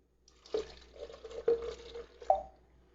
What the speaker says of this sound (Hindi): 1 गिलास मेरे पास पानी है, जिसे मैं इसी ब्लेंडर जार में डाल के